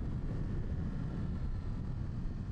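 A Modenas Z500 motorcycle with telescopic front forks and preload-adjustable rear suspension pulls away on a test ride, giving a steady low rumble mixed with wind buffeting against the microphone, with no talk over it.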